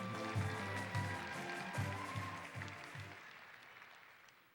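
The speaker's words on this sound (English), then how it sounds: "let's have another round of applause for our student athletes" A school gym audience at a high school signing day applauds student athletes, a steady wash of clapping that fades away toward the end, with a voice briefly heard over it.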